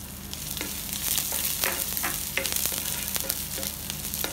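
Garlic and red saag (lal bhaji) fry in a hot pan, a steady sizzle broken by scraping and stirring clatter from a spoon, with no voices over it.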